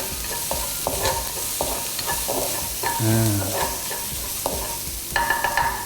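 Onion being stir-fried in a pan for tuna white-sauce spaghetti: a steady sizzle broken by regular scraping strokes of a spatula, with a brief rattling clatter partway through, close and without speech.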